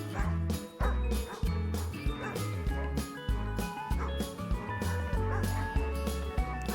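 Dogs bark repeatedly in loud, close, rhythmic bursts at the Peninsula Humane Society animal shelter, with a voice heard among them.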